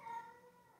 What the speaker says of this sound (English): I'm not sure if you heard the kitten in the background.